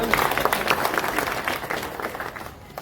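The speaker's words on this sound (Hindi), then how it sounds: "इनके लिए जोरदार तालियां" Loud applause from the crowd at a tribal rights rally speech, many hands clapping together in a dense, steady wash that fades slightly at the end.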